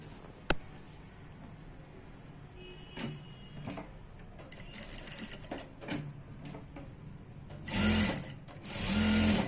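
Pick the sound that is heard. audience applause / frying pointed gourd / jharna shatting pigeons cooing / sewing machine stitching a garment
sewing machine stitching a garment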